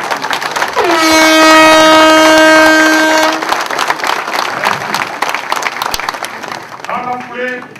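A crowd at a political party event cheers and applauds its national president, a long loud horn or vuvuzela-like blast rising over dense clapping and shouts, followed by continuing applause and a brief second horn.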